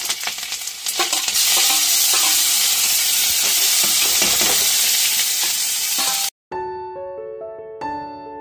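Onions frying in oil and being stirred in a pan, with a steady loud sizzle and scraping for about six seconds, followed by a few bright chime-like tones after a short break.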